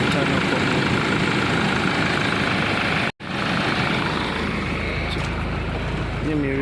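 A 2007 Land Rover Defender engine runs at a steady idle, a constant close rumbling drone with one brief dropout midway, and the note carries on unchanged afterward.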